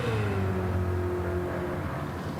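In an online racing game, a car engine hums at a steady pitch that slowly drops, like racing cars cruising, with a continuous droning whir and no voices.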